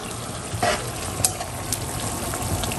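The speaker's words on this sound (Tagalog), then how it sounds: "Bali, ito po ay sasangkotsahin ko na." A soft, steady sizzle of pork sautéing in a pan, with faint clinks and stirring noises, no voices.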